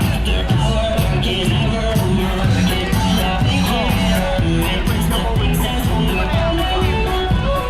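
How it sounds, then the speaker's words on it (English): A crowd at a street show on Fremont Street in Las Vegas claps and cheers, a dense, loud mix of applause, whoops and shouts with voices mingled throughout. "Everybody clap."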